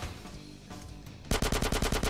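Rapid automatic gunfire in GTA San Andreas, a loud close burst of evenly spaced shots that cuts in sharply after a quieter stretch of game noise.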